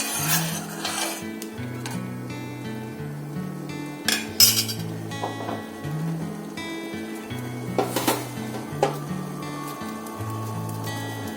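A spoon stirring an herbal cough decoction in a metal pot, with scraping strokes and sharp clinks against the pot's sides over a low steady hum, fairly quiet and close, with no talking.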